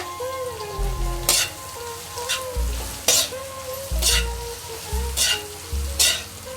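Shredded cabbage stir-fried for a Punjabi-style white sauce pasta sizzles steadily in a pan while a spatula stirs it, with regular scraping strokes about once a second, close and clear, and no voices.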